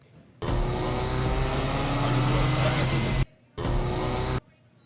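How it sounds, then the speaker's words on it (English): Nissan GT-R with a flame tune roaring at close range in two sustained loud bursts with a short cut between them, a dense raspy exhaust blare and no talk over it. "CJ's GTR with the flame tune. Yes. You hear the The flames coming out."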